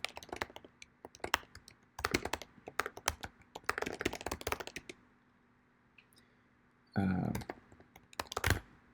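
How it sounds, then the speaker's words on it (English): Bursts of keystrokes on a computer keyboard, clustered clicks in several quick runs separated by short pauses, fairly close and moderately quiet, with a brief louder thump near the end. "I'll just type this out really quick."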